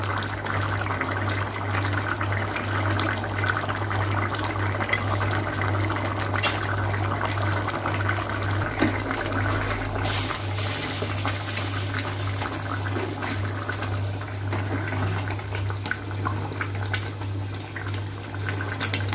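Shukto curry made with milk and coconut simmers in a pot, giving a steady, dense bubbling hiss that runs on without a break, with a low constant hum beneath it.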